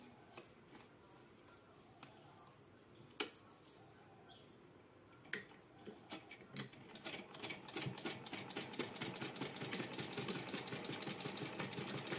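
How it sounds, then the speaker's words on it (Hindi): A sewing machine stitches along the edge of a cloth pouch made from leftover fabric, starting with a few scattered clicks and then settling into a steady, fast mechanical whir with a continuous rhythmic chatter close by. "अब मैं इस पर किनारी से सिलाई लगा दूंगी"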